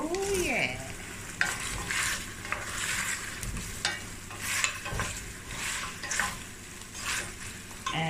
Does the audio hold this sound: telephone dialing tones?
no